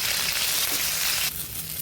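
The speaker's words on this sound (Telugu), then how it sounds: "ఇప్పుడు ఇందులోకి క్యాప్సికమ్, కాలీఫ్లవర్ కూడా వేసుకొని ఇవి మొత్తం బాగా ఫ్రై చేసుకోవాలి." Potatoes, capsicum and cauliflower frying in a kadai give a steady, close hiss and sizzle that drops in intensity abruptly near the end.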